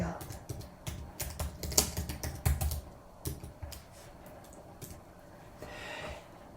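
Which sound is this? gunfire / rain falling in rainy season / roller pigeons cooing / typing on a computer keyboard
typing on a computer keyboard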